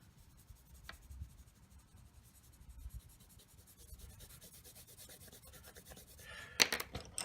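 A dark green coloring pencil rubs over paper for a 4-H landscape design drawing, a soft, steady scratchy shading that grows a little busier toward the end, quiet and close.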